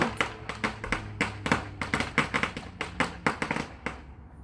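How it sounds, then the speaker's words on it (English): Fireworks or firecrackers go off outside in a rapid, irregular string of sharp cracks and pops, each burst fairly close and loud, with no talking. "Y'all need to put them fireworks away because that was scary."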